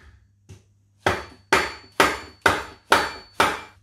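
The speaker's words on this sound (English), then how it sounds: "grab ideally a soft face hammer and it's just a matter of striking the flange with a bit of force" A soft face hammer strikes the flange of an R200 limited-slip differential from an R33, landing six firm, evenly spaced blows at close range after two faint taps. Each blow is sharp and loud, with a short ring.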